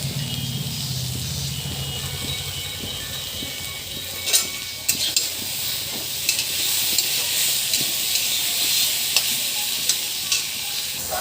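Chopped onion hits a hot pan and sizzles steadily, with a broad continuous frying hiss and scattered clinks and scrapes of a spoon stirring, close and fairly loud throughout.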